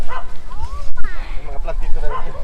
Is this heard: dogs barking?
yes